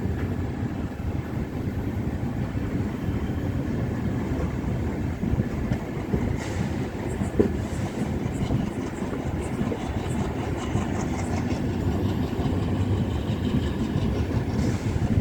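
An express train running from Mettupalayam to Tirunelveli gives a steady low rumble from onboard as it picks up speed, with faint rhythmic clickety-clack of wheels over rail joints and an occasional louder clunk.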